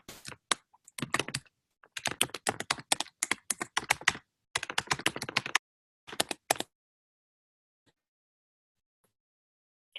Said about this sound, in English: I cannot type when people are watching